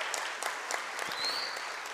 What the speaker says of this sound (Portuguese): Uma salva de palmas para vocês em primeira mão.